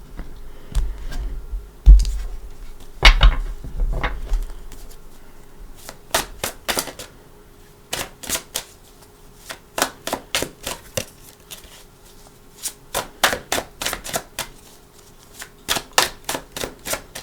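Tarot cards are shuffled and cut by hand, giving bursts of crisp, rapid slaps and riffles in quick clusters separated by short pauses, close and fairly quiet, with a few soft thumps early on.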